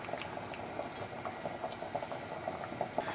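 Eggs boiling in a pot of water for Goan egg curry, a close, steady bubbling with soft irregular pops and gurgles throughout.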